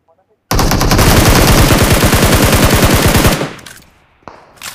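Loud, sustained automatic gunfire in the mobile shooter game PUBG Mobile: a rapid burst of about three seconds that cuts off abruptly, followed by a few softer sounds.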